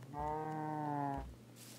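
A single cow moo from Minecraft, a drawn-out harmonic low call lasting about a second, clear and fairly close, with no talking over it.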